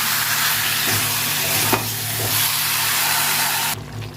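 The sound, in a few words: chicken frying with chili, cumin and spices in pan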